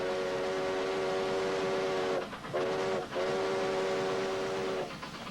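A train pulling into Kingston Station on the old Stonington-Providence line in South Kingstown, Rhode Island, blows a steady horn chord that breaks briefly twice, over a constant rumble of rolling wheels.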